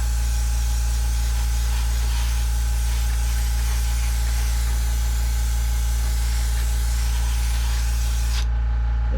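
An aerosol spray can hisses in one long, steady, close blast while coating a Walthers model kit platform, over a constant low hum, then stops abruptly near the end; no one talks.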